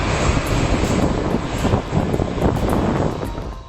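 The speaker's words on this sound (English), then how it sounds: "Listen to those jet engines." A loud, steady jet engine roar fills the whole stretch, broadband and continuous, with a faint high whine on top.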